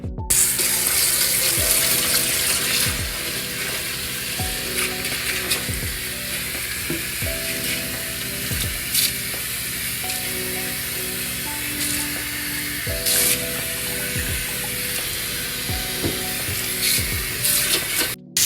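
Substrate from a PacMan frog tank being washed under running water, a continuous hissing flow with the gritty swish and rattle of the material being stirred, steady throughout and close.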